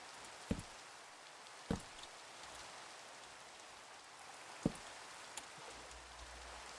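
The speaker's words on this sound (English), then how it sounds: "Oh, it's still raining." Steady rain hisses softly across a surface, with a few louder drops tapping sharply now and then.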